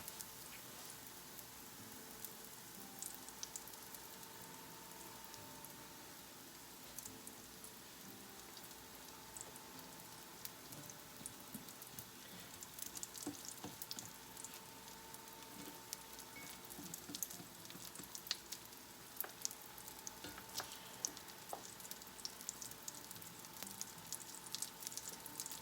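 Bread slices frying in a pan of reused cooking oil, a steady crackling sizzle with scattered sharp pops, fairly quiet and continuous throughout with no voices.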